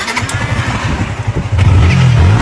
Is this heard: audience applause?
no